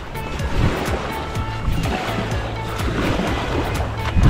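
Continuous wash of surf rolling in, noisy and steady, with a low rumble and occasional faint clatter nearby.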